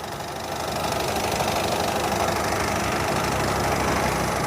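A 2018 Honda WR-V S diesel engine with 52,000 km on it runs at a steady idle, a loud, even, rough clatter that continues without break and without any voices.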